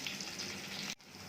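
Tempering of oil with dried red and green chillies and curry leaves fries with a steady close sizzle, ending abruptly before a quieter tail.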